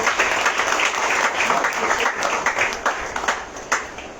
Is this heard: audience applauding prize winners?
yes